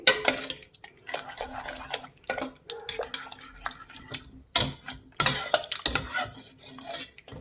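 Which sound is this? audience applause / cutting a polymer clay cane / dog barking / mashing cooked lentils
mashing cooked lentils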